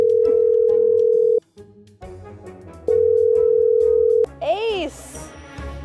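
A phone call rings through in long steady electronic tones, two sustained buzzing rings separated by a short gap, followed by warbling connection chirps as the call is picked up, loud and close.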